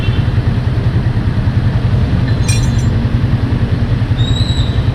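A carbureted Raider 150 motorcycle engine idles steadily and loud at close range, a rapid even low putter with traffic noise around it on a busy road.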